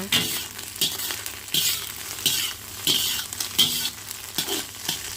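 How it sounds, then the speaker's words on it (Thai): Large chili peppers and egg being stir-fried in a pan, with loud bursts of sizzling that swell with each toss and stroke of the spatula in a regular rhythm, close up and with no talking. "มาผัดด้วยกันนะคะ"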